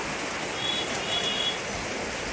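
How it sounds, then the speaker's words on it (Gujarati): Heavy, steady rain pours down without a break, a dense even hiss filling the air throughout with no voices over it. "એક ધાર વરસાદ ચાલુ જ છે."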